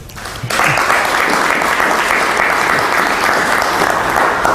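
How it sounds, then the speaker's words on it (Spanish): A sudden burst of applause from a crowd, steady and loud, sustained for several seconds after a brief moment of speech. "Un aplauso para ella."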